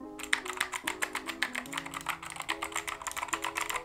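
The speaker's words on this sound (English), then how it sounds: "This right here is the Keychron K2." Someone types quickly on a Keychron K2 mechanical keyboard at a home desk, making rapid, crisp, close clicks over soft background music.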